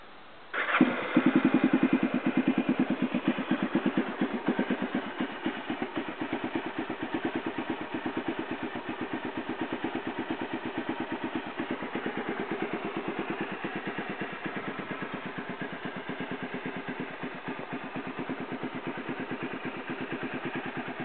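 A 1993 XR650L motorcycle, freshly fitted with new oil, a new spark plug and a repacked muffler, starts up and settles into a steady, loud, thumping single-cylinder idle that keeps its even rhythm for about twenty seconds.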